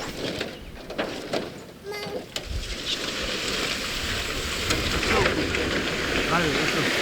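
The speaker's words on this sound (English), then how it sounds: "We gotta hurry, it's starting to rain." Light rain begins falling outdoors near a sheep shelter, a soft steady patter that builds and thickens, with animal movement and occasional voices over it.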